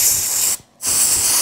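Compressed air blasting dirt out of a thermal scope lens, two close, loud bursts of steady hiss split by a brief pause.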